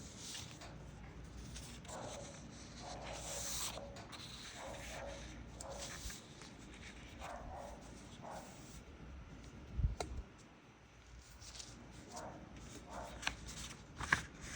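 Sheets of paper rustle and shuffle near the microphone while someone works through an algebra age problem, a crisp handling sound with soft scrapes and light clicks, briefly louder near the end.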